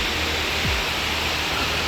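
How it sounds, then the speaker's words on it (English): Steady, loud broadband rush of the upper falls at Munising Falls in Pictured Rocks National Seashore, Michigan, recorded close to the falling water with no break. "We're doing the Munising Falls waterfall hike right at the visitor center here."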